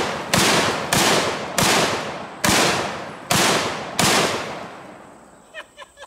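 A 12-gauge Street Sweeper revolver shotgun fires six loud, close blasts in a steady rhythm about every half-second to second, each with a ringing decay, followed by faint metallic clicks.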